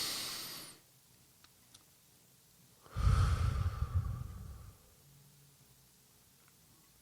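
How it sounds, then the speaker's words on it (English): A single slow, close inhalation during a quiet meditation, an audible airy draw lasting about two seconds, preceded by a short soft breath sound and surrounded by near silence. "Take a breath."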